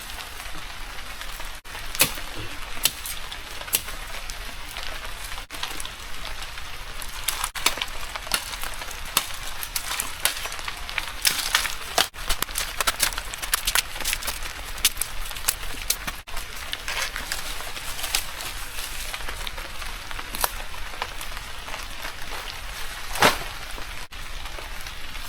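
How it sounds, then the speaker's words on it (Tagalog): Heavy rain at a campsite, a constant dense patter of drops with frequent sharper ticks and spatters close by, steady throughout without talk. "palakas na ang buhos ng ulan"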